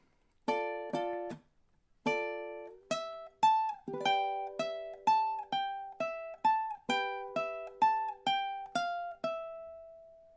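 A ukulele plays measures 31 to 33 of an arrangement slowly and cleanly, a run of about fifteen plucked notes and chords, each ringing out and decaying alone in a quiet room.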